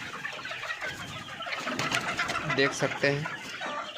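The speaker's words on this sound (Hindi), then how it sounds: "तो देख सकते हैं अभी मुर्गी सब पूरा मस्त है।" Chickens, hens and roosters together, cluck and murmur inside a poultry farm shed in winter, with a few louder clucks near the end. Someone talks over them throughout.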